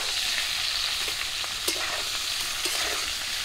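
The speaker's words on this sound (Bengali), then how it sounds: "কাঁঠালটাকে ভালো করে ভেজে নিতে হবে।" Pieces of boiled jackfruit fry in hot oil, giving a steady, close sizzle broken by a few soft scrapes of stirring.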